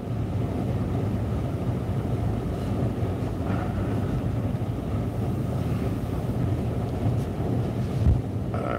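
Strong wind and big waves at Crystal Beach during a seiche: gusts buffet the microphone over a constant roar of surf, with a slightly louder surge near the end.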